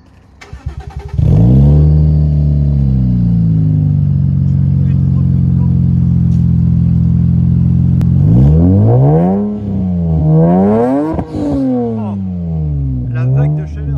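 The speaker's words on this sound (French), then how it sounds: "Donc on va faire le son au démarrage." A supercharged Lexus IS 200 engine cranks and fires, settles into a loud high idle, then is revved several times in rising and falling sweeps, heard close by with some voices in the background.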